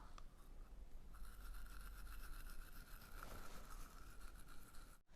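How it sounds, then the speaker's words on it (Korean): A toothbrush scrubs the outer side of the upper back molars with the mouth only slightly open, a steady close bristly scraping that runs without a break for several seconds. "칫솔을 최대한 안쪽으로 위치시키고"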